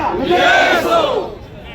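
A crowd of teachers at a protest march in Sangli roars a slogan in unison, one loud, sustained chant that swells and fades within a couple of seconds, close and dominant.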